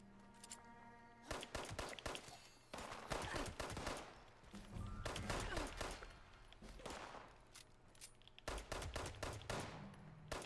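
Bursts of automatic fire from the radium gun, a fancy AK-style rifle in Fallout 76, come in several rapid volleys with short pauses between them, loud and close with no talk over them.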